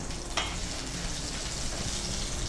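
Ginger and green chilli fry in a pan with a steady, close hiss of sizzling oil that holds evenly from start to finish, with no voices.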